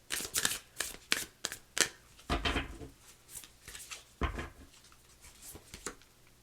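Oracle cards from a Moonology deck are shuffled for a card reading, giving a run of quick papery riffles and slaps with brief pauses. The shuffling is close and fairly loud, with no talking over it.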